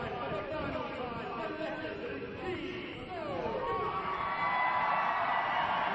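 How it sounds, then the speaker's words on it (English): A women's football crowd at Kingsmeadow cheers and applauds loudly as a departing Chelsea player leaves the pitch, a broad swelling roar of voices that grows stronger toward the end, with a commentator talking over it. "The biggest cheer so far."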